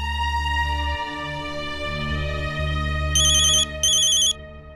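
A phone rings with a loud, repeating electronic melodic ringtone in a Hindi TV drama scene, steady and close, with brief bright chirping bursts near the end and no talking.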